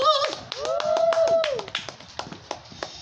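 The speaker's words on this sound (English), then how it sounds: "Everybody give it up for Christopher McDonald!" A small live crowd claps for Christopher McDonald in scattered, uneven bursts that thin out into a few separate claps, heard just after a voice over a microphone.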